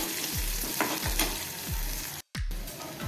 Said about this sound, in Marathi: थोडासा आपण कढीपत्ता पण असा बारीक चिरून घालूया थोडंसं परतून घेऊया